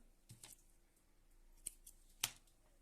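Scissors snipping knitting yarn for a crocheted neck warmer: a few quiet, sharp clicks spread over a few seconds, close and alone.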